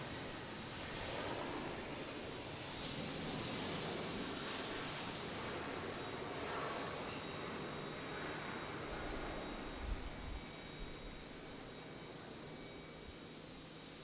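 A Delta jet airliner on the runway at Raleigh-Durham airport, its engines giving a steady, loud broadband roar that holds throughout, with a brief low thump near the end and no talk.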